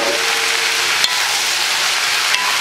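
Fried rice with mushroom and seaweed sizzles steadily in a hot pan, a continuous bright frying hiss with a couple of faint clicks from the spoon stirring it.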